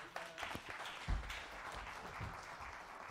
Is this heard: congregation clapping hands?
yes